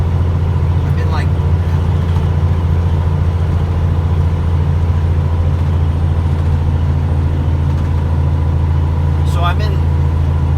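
A 2013 Peterbilt 386 daycab tractor with a 450 HP Cummins engine drones steadily from inside the cab at highway speed, a loud continuous low rumble with faint higher squeaks at intervals.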